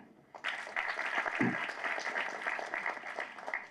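An audience claps at the School film's audio launch event in Tamil Nadu, a crowd of hands breaking in after a quiet start and keeping up a fairly soft, even patter with some voices under it.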